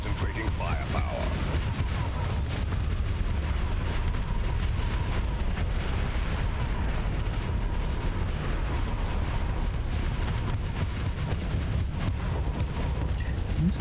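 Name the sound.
spaceship weapons firing in video game Starsector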